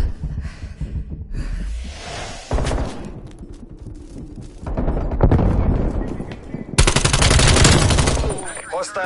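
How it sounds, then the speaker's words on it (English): Rapid sustained gunfire from a minigun in a video game, loud bursts building in the second half and roaring hardest near the end, mixed with other game effects and intermittent talk. "That's not a sentry turret, that's a minigun."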